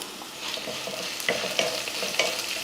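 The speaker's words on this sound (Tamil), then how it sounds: "ரொம்பையும் வதக்க தேவையில்லை வெங்காயத்தை" Onions sizzle and crackle steadily in a hot pan, with occasional scraping stirs cutting through the frying.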